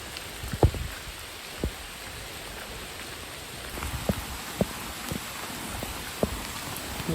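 Rain falls outdoors near a lake, a steady soft hiss of drops with scattered louder taps and thuds on nearby surfaces, heard without talking.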